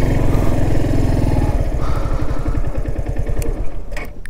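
A motorbike engine idles with a steady throb that shifts into a slower rhythmic chug as the bike rolls onto a bamboo bridge over a river on Majuli island in Assam, loud and close throughout.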